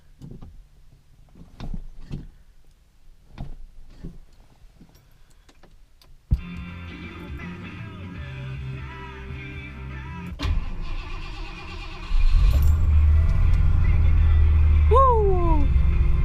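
A Mercury Cougar sits on a cold morning, with faint clicks before the engine cranks with a whine, catches, and settles into a loud, steady rumbling idle with a high squeal near the end.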